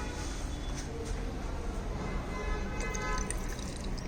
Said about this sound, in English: here just we are pouring the water into this